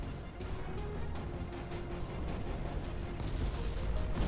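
Battleship guns firing in Ultimate Admiral Dreadnoughts, a dense, continuous rumble of distant booms and rolling thuds under steady ambient battle noise.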